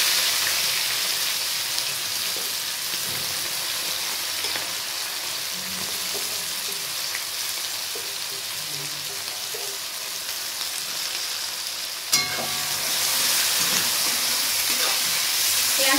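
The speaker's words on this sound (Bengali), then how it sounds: "এই পেঁয়াজটা আমি এর মধ্যে দিয়ে দিচ্ছি।" Sliced onions sizzle steadily in hot oil for a mutton curry, a soft continuous hiss with faint stirring scrapes, and a sudden louder sizzle near the end as more goes into the pan.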